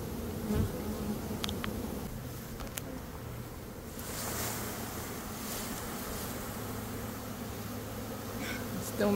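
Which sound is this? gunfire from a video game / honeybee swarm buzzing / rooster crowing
honeybee swarm buzzing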